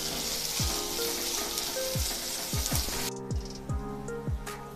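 Two medium onions, thinly sliced lengthwise, frying in oil in a pan, a steady loud sizzle with scattered crackles, followed by a sudden drop in hiss as the sizzling softens.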